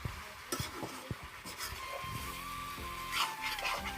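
Chicken being fried Nagpuri-style in a home kitchen pan: steady sizzle runs throughout, broken by repeated scraping and clattering stirs of a spoon against the metal, close and fairly loud, with no talking.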